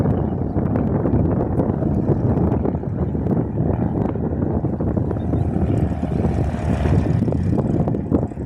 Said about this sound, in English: Cessna C172, taxiing for takeoff.